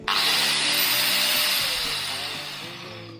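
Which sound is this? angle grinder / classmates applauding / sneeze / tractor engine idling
angle grinder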